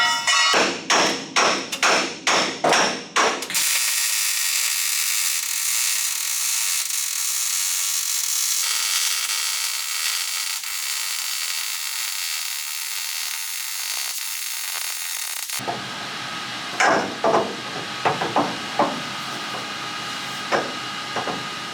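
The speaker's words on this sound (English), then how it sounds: "hammer it up a little bit too" Rapid, evenly spaced hammer blows ring on metal during a rear radiator install on a truck with a Duramax LBZ diesel, give way to a long loud roaring noise, then the hammering resumes in sparser strikes.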